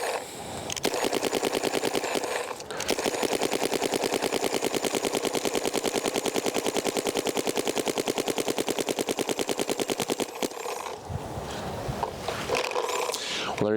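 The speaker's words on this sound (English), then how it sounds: "I'm going to shoot the Etha 3 first, and then we're going to go to CZR Plus" An Planet Eclipse Etha 3 electric paintball marker fires a long rapid string of shots in a steady, machine-gun-like rhythm, loud and close, running for about ten seconds before stopping.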